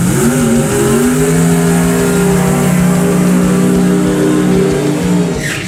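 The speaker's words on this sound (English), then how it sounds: "our first race of the day in Pro Door Slammer" Pro Door Slammer drag cars launch with a loud, sustained engine roar, layered revving tones holding steady before tapering off as the cars pull away.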